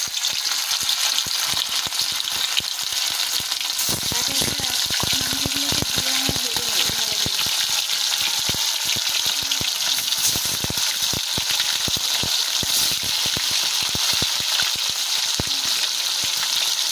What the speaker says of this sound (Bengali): ওই তেলেতে আমরা মাংসগুলোকে ভেজে নেব।